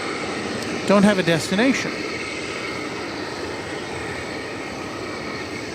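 American Airlines Boeing 737-800 at DFW Airport gives a steady, even jet roar throughout, with someone briefly speaking over it near the start.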